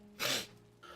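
A single sharp, breathy sniff from someone with the sniffles, close and brief, followed by a softer trailing breath.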